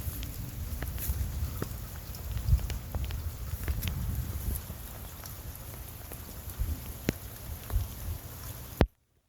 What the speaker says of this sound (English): Rain's still coming down a little bit.